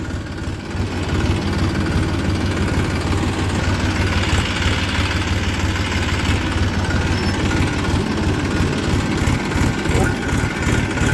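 A tractor engine runs steadily in second gear while tilling dry sugarcane leaves into a field, a loud, continuous low rumble, with a voice briefly over it.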